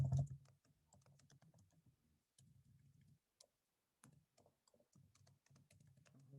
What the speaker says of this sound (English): start typing right into here